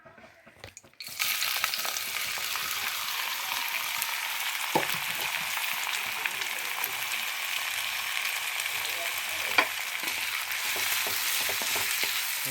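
Radish hitting hot oil in a kadai bursts into a loud, steady sizzle after a brief quiet start, and the frying hiss continues evenly with occasional small pops and stirring clicks.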